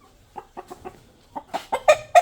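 A rooster clucks repeatedly, soft at first then louder, ending in a few sharper, emphatic calls close to the listener.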